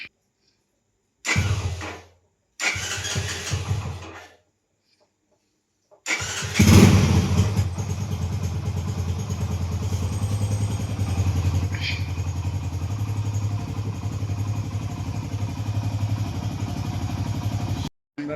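A Hero Passion Plus BS4 motorcycle cranks in two short bursts, then starts and settles into a steady, close idle that runs for the rest of the clip.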